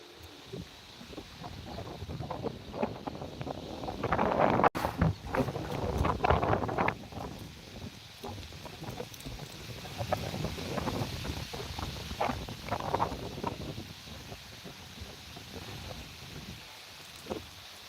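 Strong wind gusts roar and buffet the microphone in uneven surges at the Guntur chilli market yard before heavy rain, rising and falling with no voices.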